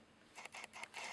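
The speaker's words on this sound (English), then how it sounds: "I'm really sorry for the noise my camera is making" A Nikon camera's autofocus motor whirs faintly in several short, rapid bursts as it hunts for focus, close to the microphone in an otherwise quiet room.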